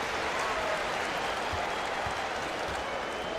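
Crowd in an NBA 2K24 game arena, a dense steady wash of applause and cheering filling the space, continuous and fairly loud with a faint voice underneath.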